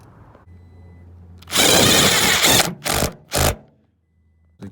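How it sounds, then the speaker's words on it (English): Power tool driving and tightening bolts inside a Toyota Tacoma TRD Sport cab during upholstery work: one long burst followed by two short bursts, loud and close, with quiet pauses between. "and then tighten the bolts."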